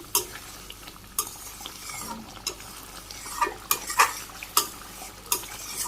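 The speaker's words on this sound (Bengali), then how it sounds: "এখন আমি যে গরম মশলা দিয়ে দিলাম জিরের গুঁড়ে ভালো করে মিশিয়ে দিই" Spoon stirring garam masala and cumin powder into an egg curry in a cooking pot in a Bangladeshi village kitchen, giving soft scraping and several sharp clinks of utensil against metal, close and moderately loud, with no talking.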